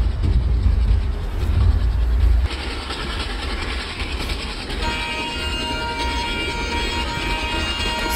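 A video game train in MSTS rumbles steadily with heavy low-end roar, then settles into a smoother running hum with a faint tonal whine at 110 speed, no voices.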